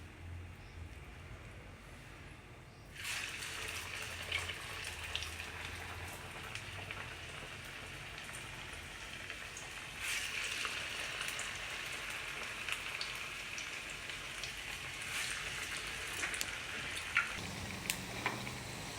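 Snacks deep-frying in hot oil for a healthy evening snack, giving a steady broadband sizzle like rain that jumps louder around three seconds in as more pieces go in, with faint crackles throughout and no talk.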